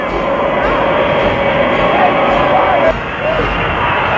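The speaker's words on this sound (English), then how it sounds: "Air Force number one, ladies and gentlemen, carrying the President of the United States with the seal on the side." Air Force One, the presidential airplane, rumbles steadily with a sustained engine roar and whine as it arrives, fairly loud and continuous, while someone commentates over it.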